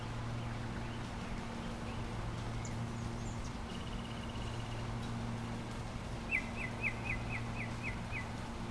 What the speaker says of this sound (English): little bird noises and everything like that